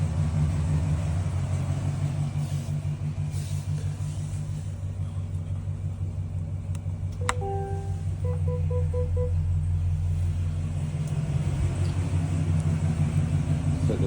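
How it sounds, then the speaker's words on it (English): A 2021-2024 Chevrolet Tahoe or Suburban engine runs at idle, a steady low rumble that stays even throughout, with a few faint short beeps partway through. "I've got the vehicle started right now"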